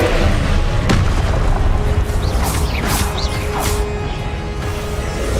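A Confringo blasting spell explodes in Hogwarts Legacy, a heavy booming crash followed by a dense, rumbling wash of debris and echoing effects that stays loud throughout.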